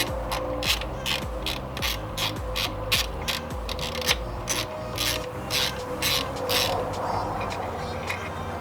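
Brisk, steady clicking of a hand ratchet backing out a bolt on the oil filter housing of a BMW F30 335i, close and continuous with a faint metallic rasp.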